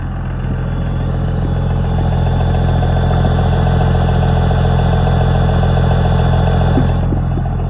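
A 2nd generation Cummins 24V diesel truck engine idles steadily and loudly, a low constant rumble with a faint whistle on top and no talking.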